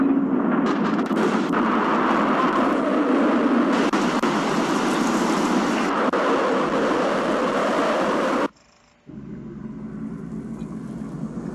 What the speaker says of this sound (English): That is sure a fucking train